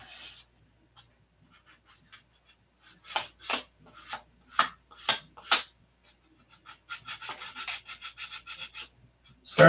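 Hand sanding a plastic model with fine 500 grit sandpaper: a run of short, close rasping strokes, sparse at first, then quick rhythmic rubbing passes, with no talk.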